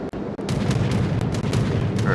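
Front main guns of the Soviet tier VIII battleship Lenin firing in World of Warships, a dense roaring boom with a sustained rumbling wash and scattered crackling, loud and close, with faint game voice lines.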